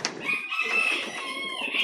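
A gamefowl rooster crows close by, one drawn-out, strained call that lasts nearly two seconds with no talking over it.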